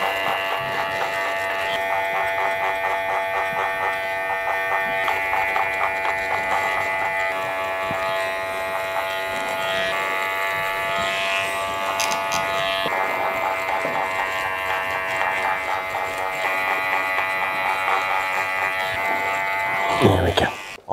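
Electric hair clipper cutting hair during a fade haircut, a steady close buzzing whine with slight pitch shifts as the clipper rocks against the head, running throughout before stopping abruptly at the end.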